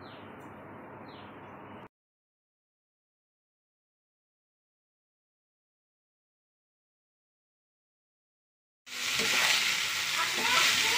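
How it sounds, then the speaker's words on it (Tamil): Tomatoes and green chillies sauté in a pan with onion. A short burst of sizzling is followed by a long silence, then a louder, steady frying hiss returns at the end. "கட் பண்ணி வச்சுருக்கிற 2 தக்காளியை அதில் சேர்த்து வதக்கலாம். பச்சை மிளகாய் எல்லாத்தையுமே போட்டு வதக்கலாம்."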